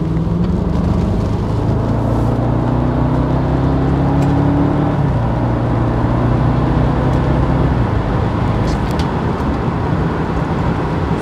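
A BMW car accelerating with hesitation, its engine a steady droning hum with a couple of faltering pitch steps instead of a smooth climb, loud and constant with no talk.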